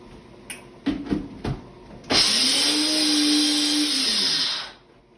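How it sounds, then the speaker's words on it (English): Small kitchen blender whirring for about two seconds while grinding ingredients for a Bloody Mary, preceded by a few short clunks as it is handled, then spinning down to quiet. "Got your handy dandy little blender thingy here."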